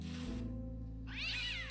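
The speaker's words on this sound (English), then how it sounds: "this cute little cat." A cute little cat in the video game Day of the Tentacle Remastered gives a single soft meow, rising then falling, over a steady low game hum with no talking.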